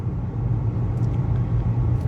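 A BMW car runs steadily on its first drive, a loud, continuous low engine and road rumble with no break and no voices.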